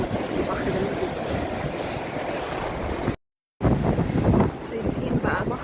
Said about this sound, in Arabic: شايفين بقى بحر اسكندريه والاجواء، الامواج عالي جدا